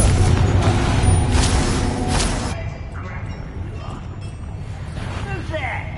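A Confringo spell blast in the Hogwarts Legacy video game, a loud booming burst up front that fades into a rumbling tail, with game voices speaking over it.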